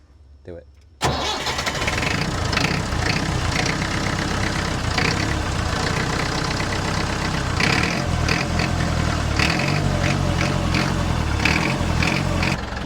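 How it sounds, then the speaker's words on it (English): A 1962 Lancing diesel forklift engine catching and starting after about a second of near silence, then running and revving loudly with a rough, clattering knock, close up and steady, while people talk over it. "You're revving something up there that was made in 1962"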